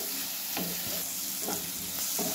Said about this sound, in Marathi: चांगलं तेलात असं भाजून घेऊया